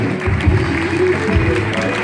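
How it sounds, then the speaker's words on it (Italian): An audience at an Italian live event bursts into loud, steady applause that fills the whole stretch as a dense, continuous wash of clapping. "un applauso forte va per tutti voi"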